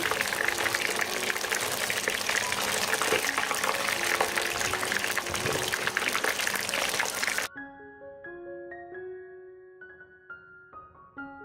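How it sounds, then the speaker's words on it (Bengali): Chicken lollipops frying in hot oil give a loud, steady, dense sizzle that cuts off abruptly, followed by quieter, sparse tonal sounds. "চিকেন ললি উল্টিয়ে পাল্টিয়ে গোল্ডেন ব্রাউন কালার করে ভেজে নেব"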